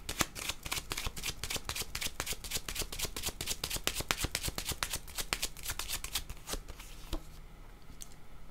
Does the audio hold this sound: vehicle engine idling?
no